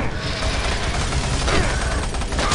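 Dense, loud rapid gunfire from the video game Doom 3, a continuous fusillade of overlapping shots and booms filling the whole stretch with no pause, no talking over it.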